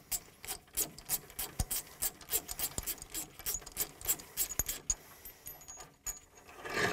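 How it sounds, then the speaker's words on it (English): A wrench works a 22mm bolt loose on a seeder arm, giving close, scraping metallic clicks and rasps in a rapid, irregular series that ease off near the end. "Here you need a 22mm nut to loose this bolt."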